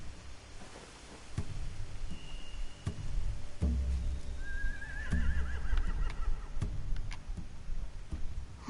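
A horse whinnies a couple of times amid quiet ambience in The Walking Dead Telltale game, with scattered ticking clicks and a short whistle-like tone.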